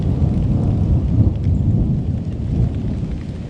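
Steady heavy rain with rolling thunder during a storm over a deer-hunting spot, loud and continuous throughout with no voices.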